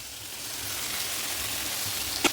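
Prawns go into a pan of masala with potatoes and sizzle, giving a steady, even frying hiss throughout, with one brief sharp click near the end.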